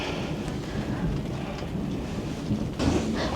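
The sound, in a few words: thunder rumbling with light drizzle outdoors in a garden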